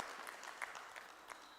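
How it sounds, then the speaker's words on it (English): Applause from the audience at a water utility process controller day event, moderate and fairly distant, with scattered claps fading in and out across a short burst. "Let's give him a round of applause."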